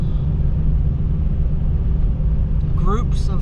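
A car rumbles steadily along the rough, pothole-strewn Manley Road in the Alaskan wilderness, with a constant low road and engine drone; a brief higher-pitched sound cuts in near the end.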